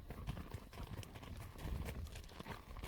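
Hooves of a ridden horse clip-clop in a steady uneven rhythm on the ground at a state park, close and moderately loud, with no talking.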